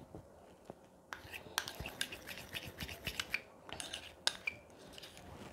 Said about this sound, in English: Okay, so mix it very well.